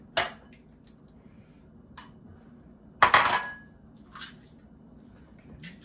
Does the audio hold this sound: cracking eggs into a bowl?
yes